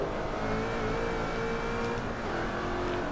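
Eight-cylinder GT race car in the Forza Motorsport 3 racing game, its engine droning at low revs in a steady, continuous hum with a faint whine on top. No one speaks.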